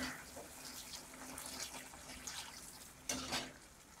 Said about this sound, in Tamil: இப்போ தேங்காய் பால் ஊற்றலாம்.